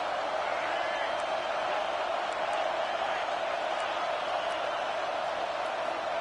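A stadium crowd roars steadily during a college football game between Oregon and Texas A&M, a dense, constant wash of cheering with faint whistles and whoops on top.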